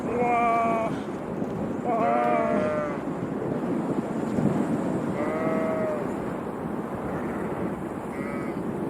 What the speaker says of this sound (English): I actually believe now that the sheep are making that noise.